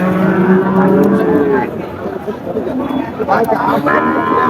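Cattle low with a drawn-out moo amid a busy crowd of chatter and voices at close range at a cattle market in Chaugachha, Jessore.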